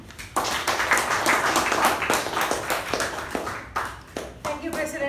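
A Toastmasters meeting audience breaks into lively clapping that starts abruptly, stays full and close for about four seconds, then thins out as a voice begins speaking.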